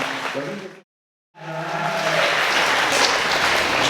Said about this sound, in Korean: 네, 박수 한 부탁드리겠습니다